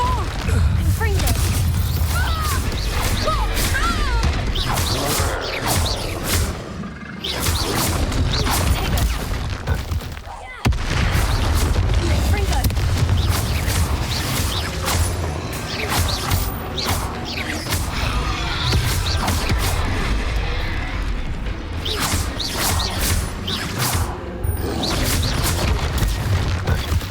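Spell-casting effects for Incendio, Reducto and Confringo in the Hogwarts Legacy video game: continuous loud magical blasts, booms, crashes and mechanical clatter over 27 seconds, with a man calling out spell names throughout.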